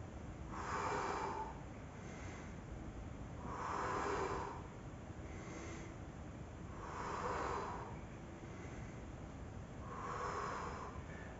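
Deep breathing during a seated torso and abs workout: four slow, evenly spaced breaths, each a soft, close airy rush lasting about a second, with quiet stretches between them and no talk.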